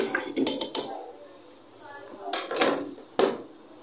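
Mutton being added to a pressure cooker pot on a stove, heard as a few sharp metallic clinks and clatters.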